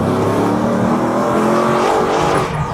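A 1968 Ford Bronco with a Coyote V8 accelerates hard, a loud close engine roar rising steadily in pitch across the short burst with no talking.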